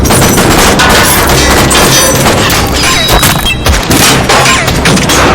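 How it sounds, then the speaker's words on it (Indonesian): Dense, loud gunfire crackles without pause in an Escape from Tarkov movie battle, sharp overlapping shots and bursts forming a chaotic battle din. "terlihat pasukan militer swasta USEC datang ke sana dan langsung melepaskan tembakan"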